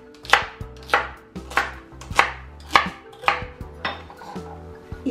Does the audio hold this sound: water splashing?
no